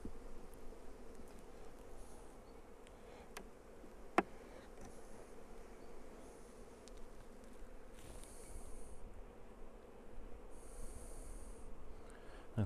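Honey bees walking on hive frames during a colony split: a faint, steady low buzzing hum throughout, with a few soft ticks and knocks, quiet and close.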